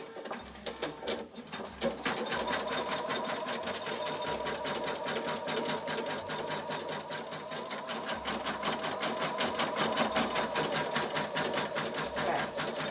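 Sewing machine stitching a fabric pouch for artist trading cards, a fast, even rapid-fire clatter of needle strokes running continuously after a brief start, close and moderately loud, with faint bird coos in the background.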